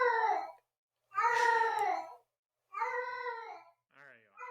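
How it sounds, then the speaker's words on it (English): A pet cat gives three drawn-out meows and a short chirp, close and fairly loud, with brief silences between each call. "I'm just more impressed Dan's taught the cat to say hello"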